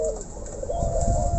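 Zebra dove (perkutut) cooing nearby, a soft repeating coo over a steady low background hum, with no talk.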